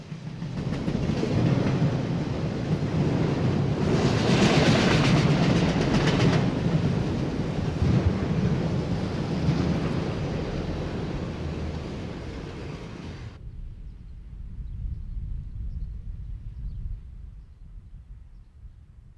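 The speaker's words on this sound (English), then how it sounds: "This train probably came from Seneca Yard west of Buffalo, which reblocks westbound auto trains" Westbound freight auto train ML433X at Berea rumbles past loud and near, with steady clattering wheels and a brighter burst of rail noise midway, then cuts to a much quieter distant rumble for the last few seconds.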